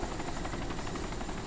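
Helicopter in the video game DayZ, a loud continuous rotor drone with a rapid pulsing chop that holds steady throughout, with no voices over it.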